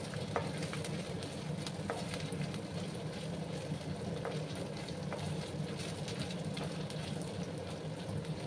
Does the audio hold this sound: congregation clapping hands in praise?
no